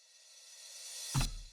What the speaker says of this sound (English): Reverse crash.